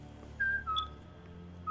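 Short, clear whistled notes in the Serious Sam 3: BFE video game, a few sustained pitches stepping up and down in quick succession over a low background hum, with no talk.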